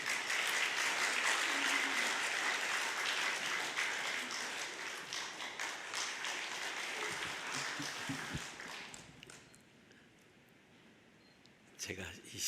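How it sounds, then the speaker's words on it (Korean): Audience applause welcoming a speaker at a memorial event for a pastor, a dense steady clapping that fills the room for about nine seconds, then fades to quiet murmur before a brief final burst. "큰 박수로 환영해 주시겠습니다"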